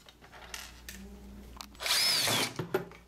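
A power drill whines in a short, loud burst, biting into a wooden post for about a second before spinning down, with faint knocks before it.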